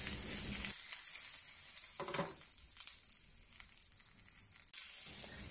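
Tofu pan-frying in a non-stick pan gives a steady broad sizzle that runs the whole time, with a few brief scraping shifts midway and no voices.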